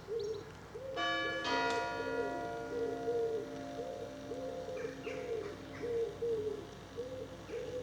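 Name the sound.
church bell chimes striking 6:15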